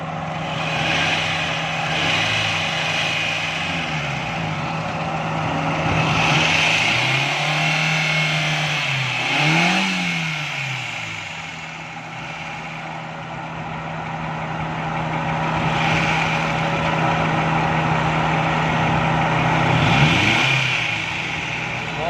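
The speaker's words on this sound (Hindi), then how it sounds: "गाड़ी स्टार्ट हो गई है। अब गैस की सेटिंग करेंगे।" A Suzuki Cultus EFI engine with a jerking fault runs at idle in a workshop and is revved several times, the pitch rising and falling in slow swells; nobody speaks.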